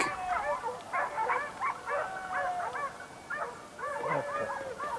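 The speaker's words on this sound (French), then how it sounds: "Une belle musique des chiens, magnifique." A pack of hunting dogs bays continuously during a wild boar drive in Corsica, a chorus of overlapping yelps and howls rising and falling in quick bursts at moderate distance, with no talk over it.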